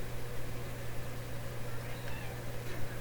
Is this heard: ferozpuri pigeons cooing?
no